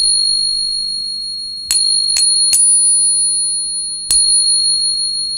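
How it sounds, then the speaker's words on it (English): A genuine 1921 silver coin struck four times with a stick in a ping test, each hit ringing out as a bright, sustained metallic tone that lingers between strikes, close and clear over a faint low hum. "I'm going to take the stack stick and I'm just going to whack this a few times and listen to the sound"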